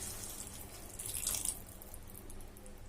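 Water splashes and pours into a pan of okra for a second or two, a short close rush of liquid against steady background noise.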